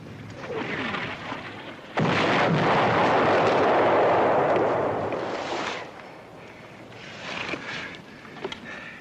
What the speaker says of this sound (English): Now they're lobbing anti-aircraft shells straight up.